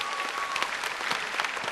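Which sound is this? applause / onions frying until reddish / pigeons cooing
applause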